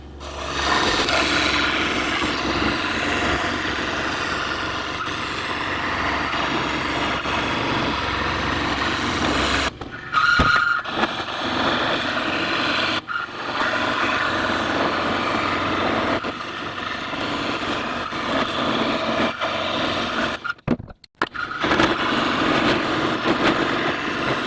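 A scroll saw cuts a disk sander part, a loud close motor whine with rapid reciprocating blade chatter that runs steadily, briefly stopping and restarting a couple of times, with no talking.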